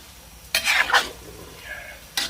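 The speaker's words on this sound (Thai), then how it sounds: "ให้เกี่ยวน้ำมันหมูครับ น้ำมันกำลังออกมากครับ" Pork fat renders into lard in a pan, stirred for a pork crackling chili dip, giving bursts of scraping and sizzling from the cooking fat, loudest in two clustered strokes and a brief later one, with no voices.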